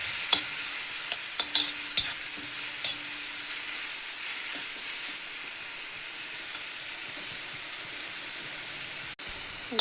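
Mushrooms are stirred and fried in oil, a steady close sizzle with occasional spatula scrapes and taps against the pan, heard alone without talk.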